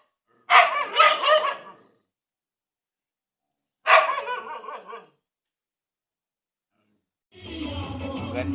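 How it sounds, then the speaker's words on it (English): Street dogs bark at one another in two short bursts of several yaps each, separated by silence, then more barking and yelping with a low rumble near the end. "street dog barking at the one another is called noise"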